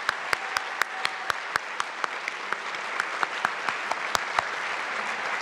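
An audience at a League of Women Voters forum on public versus private power applauds the panelists, a steady wash of many hands clapping with a few sharp, distinct claps standing out.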